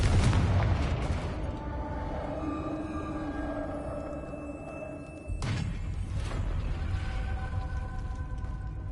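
A Confringo fire spell blast in Hogwarts Legacy bursts out loud at the start, then a second boom hits around midway, both over a dense rumbling game soundtrack with sustained tones.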